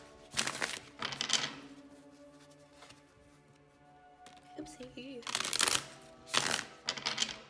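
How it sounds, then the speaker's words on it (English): A tarot deck is shuffled by hand in several short crisp riffling bursts separated by pauses, close and fairly loud, with a voice speaking briefly between them. "This is a really hard deck to shuffle."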